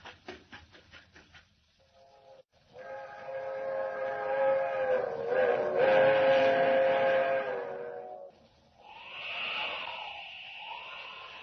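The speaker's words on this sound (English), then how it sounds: "There's the train. Traveling fast," Old radio drama scene of a fast train approaching and sounding its whistle near a highway junction, a rising roar with sustained whistle blasts, then a drop and a second wavering whistle tone, loud and near.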